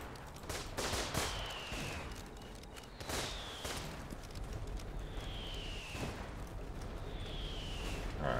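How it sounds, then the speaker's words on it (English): Gunfire in a trench warfare video game: sharp broadband shots crack at irregular intervals, some in quick pairs, over a constant battlefield din, with faint descending whistles between them. "who's taking shots?"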